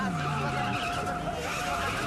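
A car's tires squeal and spin as it struggles to pull out in a movie scene, a loud continuous skidding whine with engine roar that holds for the whole stretch.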